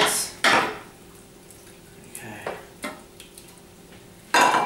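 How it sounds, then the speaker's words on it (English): Italian meatball mixture with salt being worked by hand in a bowl, heard as a few scattered squelching, clattering bursts with quiet gaps between them, close by and with no talking. "Mix it all 10 to 15 minutes."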